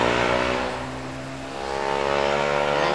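A motorcycle fitted with a bamboo exhaust and a switchable bypass revs up, its engine droning steadily, dipping slightly and then rising again in a loud, continuous tone.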